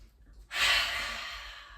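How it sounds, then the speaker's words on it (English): A single deep, slow inhalation during a calming meditation swells in after a brief pause and holds as a long, breathy rush close to the listener. "Taking those big, big breaths in."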